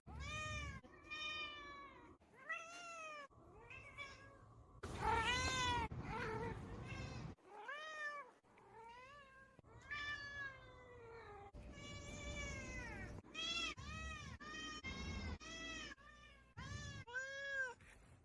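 A cat meows again and again at close range, with a long run of drawn-out, wavering meows and some yowling cries separated by short pauses, and no talking.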